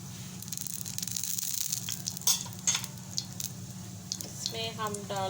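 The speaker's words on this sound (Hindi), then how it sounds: "हल्का से इसको फ्राई करेंगे।" Chutney ingredients lightly frying in a pan, a steady close sizzle with occasional stirring clinks and scrapes running throughout, a few bubbling pops near the end.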